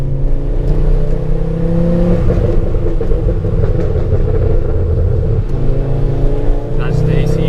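A MK2 Ford Focus RS engine pulls hard while driven, a loud droning growl that climbs in pitch through the gears, with people talking over it inside the car.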